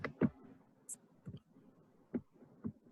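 Keys tapped on a computer keyboard during an online disaster risk reduction workshop, heard as a few sparse, quiet clicks spaced irregularly over soft background noise.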